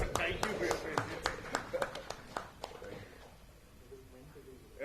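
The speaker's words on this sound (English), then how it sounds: "let's give a huge round of applause" Sparse audience clapping at a private equity buyouts summit, individual claps ringing out under soft background talk and thinning away after a few seconds.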